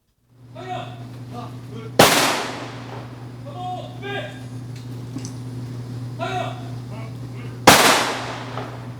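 Two sharp rifle volleys of a military gun salute at a memorial service for war dead crack out several seconds apart, each echoing away, over a steady low hum and a murmuring voice.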